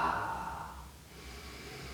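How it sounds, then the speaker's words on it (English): One slow, audible breath is let out through the mouth, strongest at the start and tailing off over about a second, followed by quiet room hiss during a yoga class. "slowing out the exhale, so really slowly letting go of the exhale."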